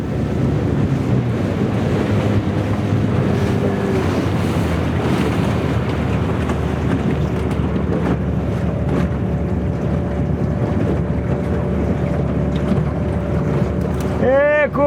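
Motorboat engine drones steadily over wind and splashing waves on open water, loud and continuous throughout.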